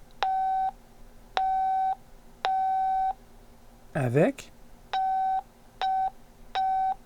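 Test signal tone through a Citizen MPL-5 AM/SSB CB radio, sounded without a capacitor: six short steady beeps at uneven intervals, fairly loud and close, broken midway by a brief spoken word.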